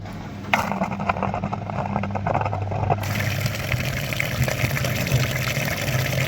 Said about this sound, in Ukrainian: Переходимо далі на промивку батареї з нагрівачем